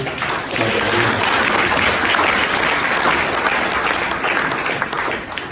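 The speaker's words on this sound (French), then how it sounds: "nous applaudissons chaudement." A church congregation claps warmly together in a dense, sustained round of applause that fills the room, loud and close from start to finish.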